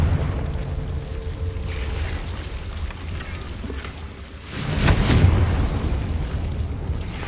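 A Confringo fire-blast spell explodes in Hogwarts Legacy, a loud whooshing burst rising about two-thirds of the way through over a steady bed of rain-like ambient noise.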